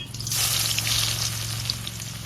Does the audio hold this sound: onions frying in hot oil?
yes